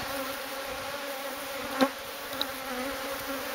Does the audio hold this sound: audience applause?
no